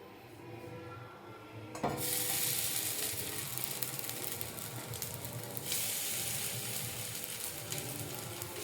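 Parotta frying on a hot griddle stone, a soft rustle that bursts into loud continuous sizzling after a brief knock, steady and close with no talk.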